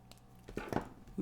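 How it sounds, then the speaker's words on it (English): Scissors snip electronic components, diodes, out of their paper carrier tape on a workbench: a few quick, close cutting crunches in a quiet room. "I'm just going to cut these out of the tape here."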